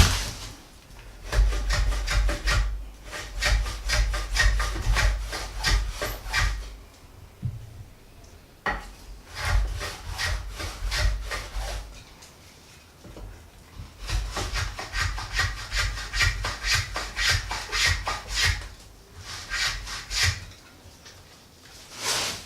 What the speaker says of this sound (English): And so I'm tapering this and beveling the edges.